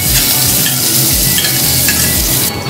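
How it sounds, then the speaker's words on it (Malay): Fish sizzling steadily in hot oil in a pan while preparing a Malaysian siakap (sea bass) dish, a continuous close crackle with faint stirring and utensil clinks and no voices. "Sambil menunggu ikan siap digoreng"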